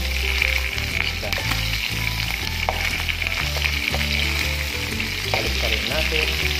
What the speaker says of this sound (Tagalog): Ayan, nagpiprito lang tayo ng